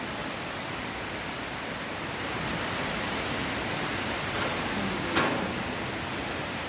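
Water flows inside Stopića cave in Serbia as a constant broadband rush, steady and fairly loud, echoing through the cave with one brief sharp knock near the end and no talking.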